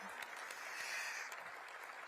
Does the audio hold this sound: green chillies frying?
no